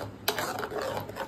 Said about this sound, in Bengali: সামান্য পরিমাণে হলুদ, সামান্য পরিমাণে চিনি, স্বাদ মতো লবণ দিয়ে ভালো করে মিশিয়ে নিচ্ছি